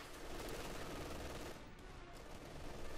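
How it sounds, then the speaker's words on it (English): Machine gun fire from a Company of Heroes 2 real-time strategy match, a steady dense rattle of automatic bursts running throughout at moderate loudness with no talk. "Pelting him with the machine gun bullets."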